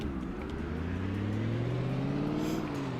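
A car engine in the zombie survival game Project Zomboid hums and revs steadily as the vehicle drives, a close, continuous motor drone rising slightly in pitch with no voices over it.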